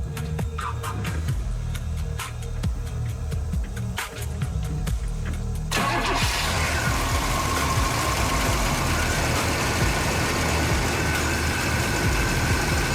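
A 1965 Pontiac Bonneville with a 421 V8 engine, in perfect condition, sits quiet with a few light clicks, then fires up abruptly and settles into a loud, even, rumbling idle.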